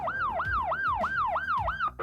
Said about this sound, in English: when you hear a siren like that, whether it's coming from an ambulance